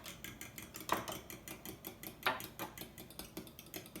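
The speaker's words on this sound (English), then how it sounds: "I'm just going to take a fork and mix that together a little bit" A fork whisks egg, cream and almond extract together in a bowl for scone dough, making a quick, regular run of light clinks and taps, with two sharper knocks against the side, faint and close.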